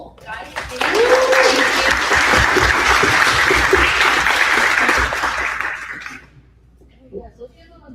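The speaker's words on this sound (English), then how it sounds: "I want to give a round of applause to you all, guys" An audience at a panel event on building startups in the era of AI applauds for about five seconds, full and steady before fading, with voices heard in the room.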